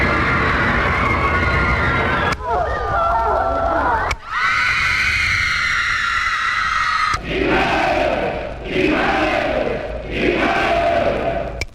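A crowd sound effect played from a record, dense roaring and yelling voices with shifting chunks that cut abruptly between segments, loud and continuous throughout, with a high shrill passage in the middle.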